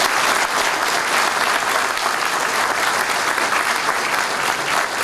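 An audience applauds steadily and densely, with no break and no voices standing out, for the whole stretch.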